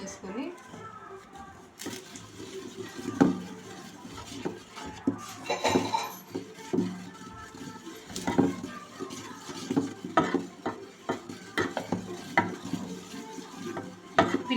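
Rice flour being stirred in a pan for chalividi, a spoon scraping and clinking against the metal in irregular bursts over steady kitchen background, with a voice talking at times.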